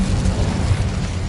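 Incendio fire spell cast in Hogwarts Legacy, a loud, continuous roaring whoosh of flame with heavy low rumble, sustained evenly without a break and with no talking.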